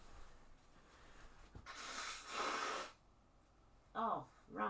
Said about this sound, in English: I just got to blow my nose